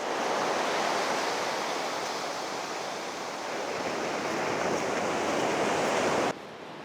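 Surf at Mallacoota Beach roars as a broad, steady wash of breaking waves, loud and continuous, with faint wind buffeting, then drops abruptly quieter near the end.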